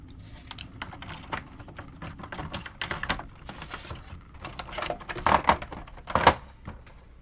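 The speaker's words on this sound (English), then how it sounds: "just the retro keyboard here, it has a nice sound to it" Fingers type on a retro-style Artemis mechanical keyboard attached to a computer, giving irregular bursts of crisp clacking keystrokes with a few louder thocks, close and alone.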